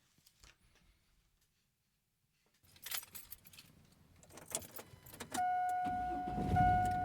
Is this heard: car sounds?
yes